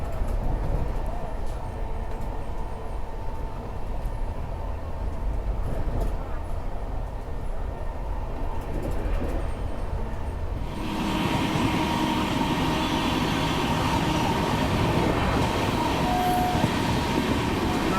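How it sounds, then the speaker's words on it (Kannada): A Rajdhani Express first-class AC coach on the New Delhi–Howrah run gathers speed, with a constant loud rumble and rattle inside the carriage that grows brighter and fuller partway through. "ಬರ್ತಾ ಸ್ಪೀಡ್ ಅಪ್ ಆಗೈತೆ ನೋಡ್ರಿ ನಮ್ಮ ಟ್ರೈನ್"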